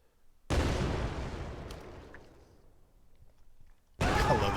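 A grenade goes off in an Unreal Engine 4 game with a loud, close blast. The boom fades away over a few seconds, and then a second burst hits hard at the end.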